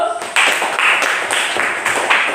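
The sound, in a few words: class clapping hands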